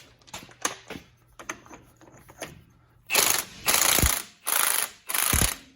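An air impact gun runs a nut down a Ram 2500 truck front axle during a wheel bearing replacement, several light clicks giving way to four loud rattling bursts with short gaps between them.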